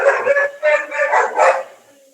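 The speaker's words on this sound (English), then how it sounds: "You don't want us to hear your dog again" A dog barks in a run of short yapping bursts, fairly close and loud, picked up over an online call's microphone before fading out.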